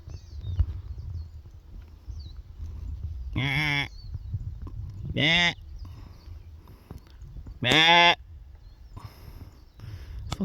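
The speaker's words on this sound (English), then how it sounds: "See the sheep." Sheep bleat outdoors in Hawaii during a bird hunt, three loud wavering calls spaced a couple of seconds apart, heard close over wind and rustling.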